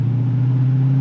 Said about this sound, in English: It can move its mass with this HEMI engine.